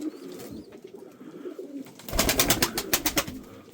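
Pigeons coo at a bird dealer's in Mardin, soft low murmurs at first, then a louder burst of rapid repeated calls near the end, close by and with no talking.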